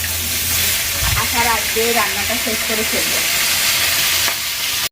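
Food sizzles and fries loudly in a pan during home cooking, a steady dense hiss with stirring scrapes, close and continuous throughout.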